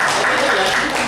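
Workshop participants clap together at a teacher training session, a dense, even burst of applause filling a short moment, with some voices mixed in.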